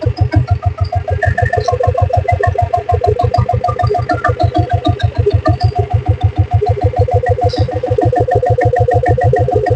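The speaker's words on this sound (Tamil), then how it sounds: "இப்போ வண்டி ஓடிட்டு இருக்குது பாருங்க." A 1990 Royal Enfield Bullet motorcycle fitted with a diesel engine runs at a steady idle, its loud, even thumping beat continuing close up throughout with a light mechanical clatter.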